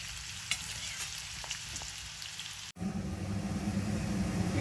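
Green chilies and curry leaves fry in oil in a pan for a bitter gourd fry, a steady crackling sizzle that turns louder and denser after a brief cut midway, with occasional light stirring clicks.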